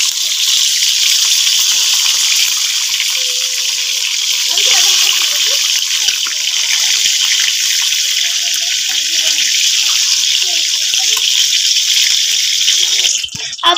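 Eggs frying in a pan for an egg curry, a loud, steady, broad sizzling hiss running throughout, close, with faint speech-like murmurs underneath.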